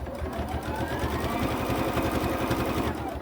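Sewing machine free motion quilting a small quilt, a loud steady rapid needle chatter running continuously up close, with no talking.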